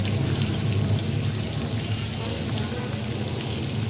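Steady, loud sizzling of climbing perch fish frying in hot oil on a griddle pan, continuous crackle throughout with no talking.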